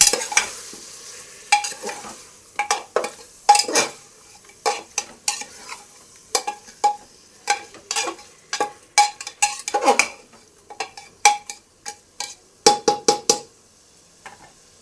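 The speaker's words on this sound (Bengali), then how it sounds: "দিয়ে দেব মেরিনেট করা মাংস এইটা দিয়ে ভালো করে নেড়ে দেবো" Marinated meat stirred in a pan, a spoon scraping and clinking against the metal in a steady run of sharp strokes over a light sizzle, close by with no talking.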